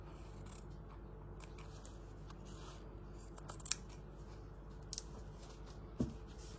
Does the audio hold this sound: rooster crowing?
no